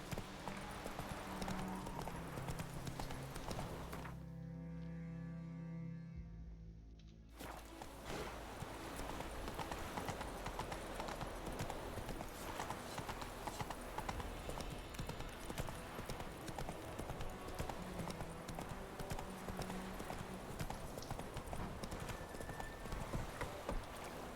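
Roach, a horse in The Witcher 3, gallops with a steady, rapid clip-clop of hooves that runs nearly throughout, briefly broken by a musical swell, close and prominent.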